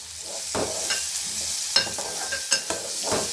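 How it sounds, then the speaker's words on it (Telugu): Onion and green chilies frying in a bowl-shaped pan for a simple egg curry, a close steady sizzle punctuated by several sharp spatula scrapes and knocks. "ఆనియను పచ్చిమిర్చి అలా బౌల్లో వేసుకొని బాగా ఫ్రై చేయాలి"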